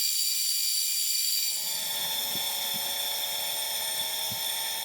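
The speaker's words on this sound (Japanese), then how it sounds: "ドリルで貫通穴を開けておきます。" A steady high-pitched machine whine with a harsh metallic grind, joined by a few soft knocks, continuous and close throughout, as a 21 mm drill bores a through-hole in a metal cylinder liner part for a Honda Monkey engine build.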